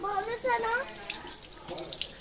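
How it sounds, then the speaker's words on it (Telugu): Water is poured and splashes briefly while kittens are bathed, following a short high-pitched cry at the start. "ఇలా లాస్ట్లో వాటర్ వేస్తే నచ్చినాయి ఇడ్లీకి కదా."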